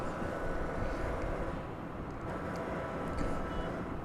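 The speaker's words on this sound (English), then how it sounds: "I think we're going to see the Turkish Flight 192 headed out to Istanbul." A Turkish Airlines Boeing 787-9 Dreamliner departs at night from DFW Airport, a steady, distant, broadband jet roar that holds at an even, fairly low level throughout.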